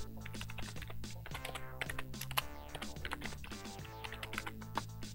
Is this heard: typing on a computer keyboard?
yes